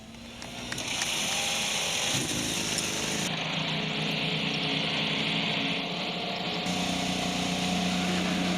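Race car engines start up in a Grand Prix of Portland racing video game, swelling after a brief quiet into a loud, steady, continuous drone of many engines.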